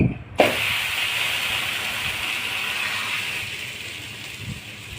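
Poha thalipeeth flatbread sizzling on a hot griddle: a sharp hiss after a quick thump, then a steady steamy sizzle that slowly fades, close by.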